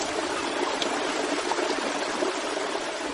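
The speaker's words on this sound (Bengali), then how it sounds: "একটা কুলকুল শব্দ পেলাম" A steady, continuous rush of running water, like a stream babbling over stones, with no voices.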